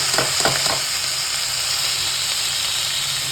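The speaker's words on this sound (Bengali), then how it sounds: "এবার এর মধ্যে দিয়ে দিলাম আলু পেঁয়াজ" Potatoes and onions hit hot oil already seasoned with whole tempering spices and a bay leaf, producing a loud, constant close-up sizzling hiss with a few quick stirring scrapes at the start.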